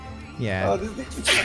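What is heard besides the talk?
sneeze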